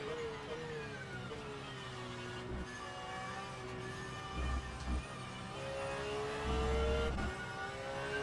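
A Porsche 911 race car runs on track at Road Atlanta in an endurance sim race, its engine note whining and shifting in pitch with other cars passing, heard fairly faintly and without talk.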